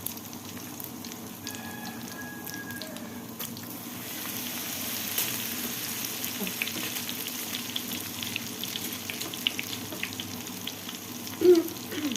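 Cauliflower frying in hot oil in a home kitchen, a steady soft sizzle and crackle running throughout at moderate level, with a brief louder splash or bubble burst near the end.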